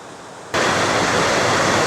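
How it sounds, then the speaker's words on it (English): Water rushes swiftly over rocks into a big pond at Seven Tubs Nature Area, a loud, steady roar that starts abruptly after half a second of quieter ambience. "you see another area where the water is swiftly going over the rocks and down into"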